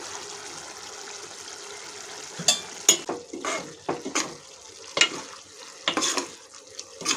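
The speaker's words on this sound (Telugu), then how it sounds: "ఉల్లిపాయలు మగ్గిపోయి కాబట్టి పునుకులు వేసేసుకుందాం." Moong dal fritters drop into a pan of softened cooked onions for a home-style Andhra curry, giving scattered clattering and stirring bursts over a low, steady sizzle, with no speech.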